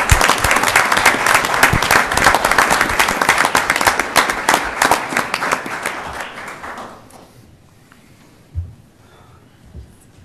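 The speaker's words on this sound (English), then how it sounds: "Let's also give Kim and Wendy another big round of applause for their wonderful sacrifices here" A city council meeting audience gives a big round of applause, dense and steady for about seven seconds, then stops abruptly, leaving only a couple of faint thumps in the quiet room.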